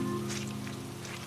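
Rain added as a sound effect in an audio story, a faint, even patter on a surface over a low steady hum, with no voices.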